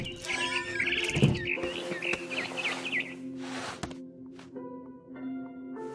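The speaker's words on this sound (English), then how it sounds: "Then I heard chirping outside my window. It was a barn swallow going back to her nest." A barn swallow chirps in the video game What Remains of Edith Finch, with a run of quick high twittering calls early on, a few fainter notes later, and a low ambient hum underneath.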